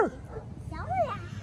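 A child imitates a dog with a few short, yipping bark sounds, fairly quiet and close. Conversational voices are heard around the calls.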